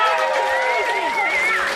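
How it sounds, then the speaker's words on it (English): A live storytelling game show audience applauds and cheers, a steady wash of clapping with voices and whoops rising over it for a couple of seconds. "I have a round of applause for Christine Blackburn"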